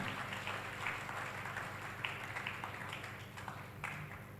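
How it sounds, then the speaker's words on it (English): A crowd claps at a Catholic diocese silver jubilee felicitation, a dense, steady round of applause heard at a moderate distance with no voices over it. "we can have a huge round of applause after this particular"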